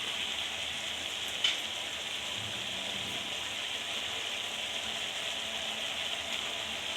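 Mutton cooks in oil in a pan, giving a steady, even sizzling hiss throughout with one brief clink partway through, fairly quiet and without talk.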